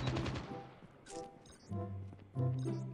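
Gunfire from a sniper and other weapons in the mobile shooter Call of Duty Mobile, a loud burst of rapid shots at the start, then a few separate sharp shots with ringing tails spaced through the rest.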